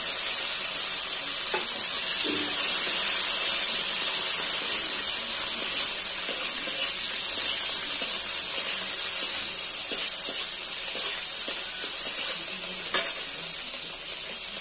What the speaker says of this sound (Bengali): এবার আমরা কুচনো টমেটো রেখেছি, কুচনো টমেটো দিয়ে দেবো।